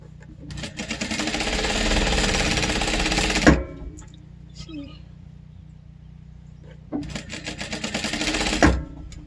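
A sewing machine stitching the back seam of a jumbo scrunchie runs in two loud, steady buzzing bursts separated by a pause with faint fabric handling, close up.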